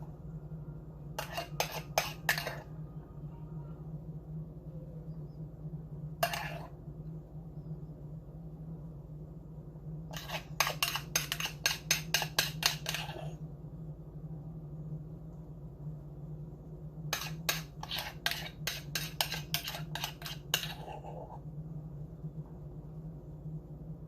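A spoon scrapes and clinks against a glass or bowl while whipped coffee is scooped on top. The sounds come in short, quick bursts of taps with pauses between, over a steady low kitchen hum.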